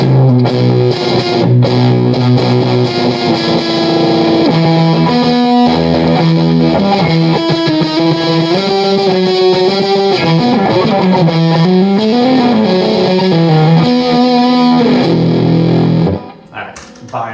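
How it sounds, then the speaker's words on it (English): Electric guitar through a Blammo! Effects Tomb Sender pedal with its bias cranked fully open, giving a loud, fuzzy, distorted tone across a continuous riff of bending, sliding notes that stops abruptly near the end. "with the bias cranked all the way open, I think it sounds really good."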